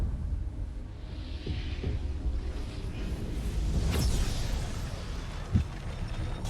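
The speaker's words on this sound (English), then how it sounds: "Oh, it is the biggest of booms." A big explosion in the video game StarCraft II: Legacy of the Void, a broad rumbling roar that swells and holds with a sharper pop near the end and no speech.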